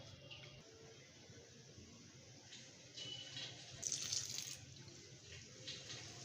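Water pours from a tap or jug into a bowl of gram flour and onion fritter batter in a home kitchen, a steady splashing run that swells briefly louder partway through, with no talking.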